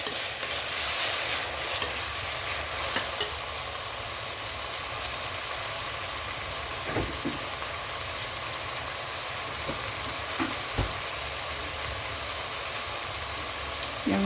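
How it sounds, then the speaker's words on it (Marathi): Finely chopped tomato sautéing with onion in a pan, a steady, dense sizzle and hiss that continues throughout with a few faint clicks of a stirring spoon. "एक मोठा बारीक चिरलेला टोमॅटो याकरता घेतला आपण, आणि तोही छान परतून घेऊ."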